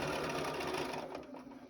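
A sewing machine runs steadily and fairly loud, stitching a seam on a fabric journal cover in one continuous whir that eases slightly toward the end, with no talking.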